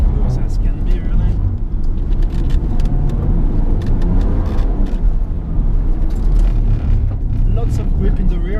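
A 1994 Nissan Skyline R33 GTS25t running as it drives, giving a steady, smooth low rumble of engine and road noise throughout, close and constant.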